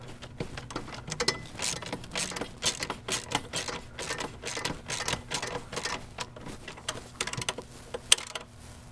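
A wrench tightening the bolts of a BRP thrust vector nozzle bracket makes quick, irregular ratcheting clicks and metallic ticks, close and continuous for several seconds.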